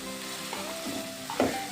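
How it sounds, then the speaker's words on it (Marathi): Onion and tomato frying in oil for mushroom masala, a soft steady sizzle close by with a couple of brief stirring scrapes, no talking. "आपल्याला सगळा कांदा ब्राऊन होईपर्यंत हे छान तेलात परतून घ्यायचं आहे."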